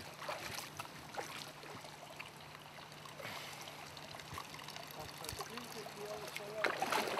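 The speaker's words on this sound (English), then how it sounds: "we have a next pool close by that is gravity fed through a bamboo" Water trickles steadily into a pool through a gravity-fed bamboo pipe at a hot spring finca, a soft continuous splashing with faint voices in the background.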